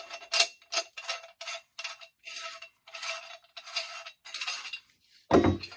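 Metal parts of a KitchenAid meat grinder attachment clink and clatter as they are handled, a string of short, separate knocks and scrapes close by, with a heavier clunk at the end.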